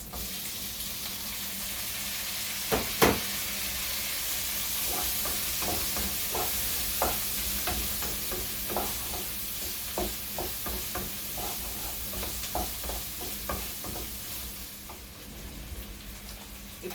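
Green chillies, curry leaves and tomatoes fry in hot oil for paneer butter masala, a steady close sizzle broken by frequent short stirring clicks and scrapes, with no talk.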